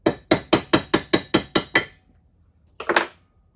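Dowel pins tapped into a Jonsered 2165 chainsaw crankcase with a hammer: eight sharp, evenly spaced metallic taps in quick rhythm, a short pause, then one last louder strike, close and alone without talk.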